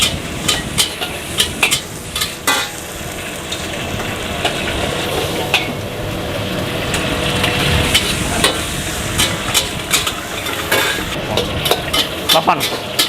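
Seafood fried noodles are stir-fried in a wok at a busy food stall, with a constant close sizzle and sharp metallic clangs and scrapes of the spatula against the pan, and occasional voices nearby.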